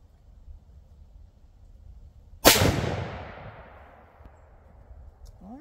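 A single sharp rifle shot from a Stevens 334 bolt-action rifle cracks loud and close, followed by a long fading rumble, with quiet background before it.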